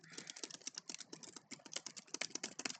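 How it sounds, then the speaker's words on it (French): Rapid typing on a computer keyboard, a dense stream of crisp key clicks with a few brief gaps, close and steady, no talking. "à faire que des frappes de clavier."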